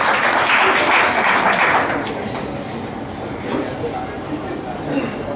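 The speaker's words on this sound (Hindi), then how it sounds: "जोरदार तालियों से स्वागत कीजिए।" An audience claps loudly at a prize distribution ceremony, a dense burst of applause that fades after about two seconds into a softer murmur of the crowd and voices.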